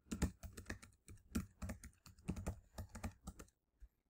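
Someone types a password on a computer keyboard: a quick, close run of crisp key clicks in an uneven rhythm, ending with a final isolated tap, with no talking.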